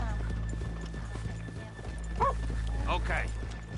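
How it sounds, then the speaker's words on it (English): Horses in a PS4 video game clip-clop along with a soft whinny partway through, laid over a dense, busy game soundscape with a continuous low hum and a voice talking. "let's leave the horses here off the main drag"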